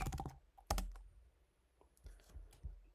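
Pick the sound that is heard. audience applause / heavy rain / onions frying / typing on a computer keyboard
typing on a computer keyboard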